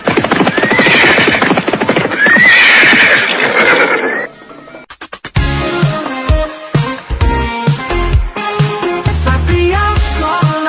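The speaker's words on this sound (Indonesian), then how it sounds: "orang-orang dari mana itu datang kemari dengan menaiki kuda-kuda yang gagah itu?" Horses ridden by Majapahit soldiers neigh loudly in a dense, close whinnying burst for about four seconds. Loud music with percussive hits follows.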